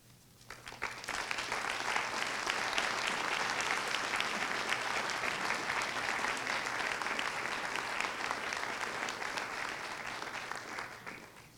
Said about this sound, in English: Just one more round of applause for both of our student winners.